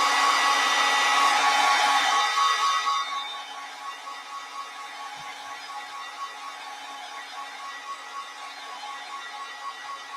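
A hair dryer blasts loudly over a freshly painted watercolor of snowdrop flowers for about three seconds, then cuts off, leaving a quiet lingering hum.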